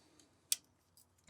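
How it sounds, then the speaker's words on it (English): Spring-loaded scissors on a Leatherman Wingman multi-tool snip twice, two short sharp metallic clicks close up against near silence, the second a quick double snap. "on the Wingman, one of the best examples of scissors that are on a multi-tool. They are spring-loaded again."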